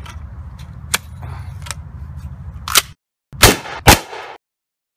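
A shotgun fires a homemade slug of Phillips head screws packed sideways into the shell. After a few quieter clicks, two sharp, loud blasts ring out close together, each cut off abruptly.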